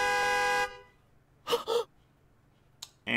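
A car horn honks in a Steins;Gate video game scene: a long, loud sustained blast, then a short gap, two quick shorter toots, a brief chirp and another blast starting at the end.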